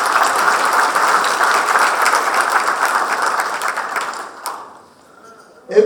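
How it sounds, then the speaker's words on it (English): An audience at a Hyundai India strategy conference hall claps loudly in sustained, dense applause that fades out near the end. "Please give yourselves a big round of applause."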